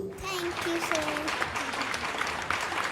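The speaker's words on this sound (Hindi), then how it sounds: "चलो एक बार जोरदार तालियां मार दो" An audience at a talent show semi-final applauds after a performance, a dense patter of clapping that runs the whole way under a voice and some tonal sounds.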